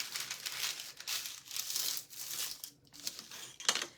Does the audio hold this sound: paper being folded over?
yes